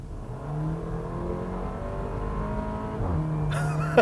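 A base-engine Porsche Macan SUV pulls steadily under acceleration, shifts gear, then lets out a short, raspy exhaust blat like a burp.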